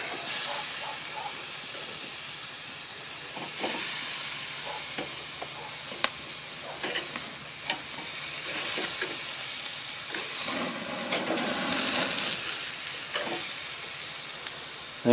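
Korean-inspired short ribs sizzling in a hot pan, a steady hiss of frying with clattering knocks and scrapes as the meat is flipped, rising briefly louder midway.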